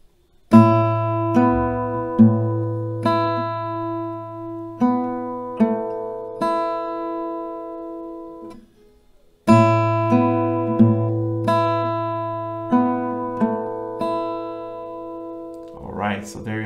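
Acoustic guitar slowly strumming the chords of a song in standard tuning, each chord ringing out and decaying before the next, loud and close, with a brief pause midway and no voices.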